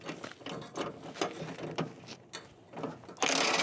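Ratchet clicking as it turns a 22 mm socket on a Nissan 350Z/Infiniti G35 drift car, a run of close, uneven mechanical clicks with short pauses, ending in a louder burst of clatter.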